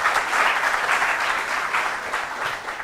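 A school quiz competition audience claps for a competing team, a brief burst of dense, even applause that swells slightly and then tapers off.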